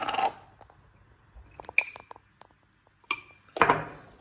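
A spoon clinks against a bowl while buttermilk mixture is stirred for a turmeric-spiced dish, giving a few sparse metallic taps and scrapes over near silence.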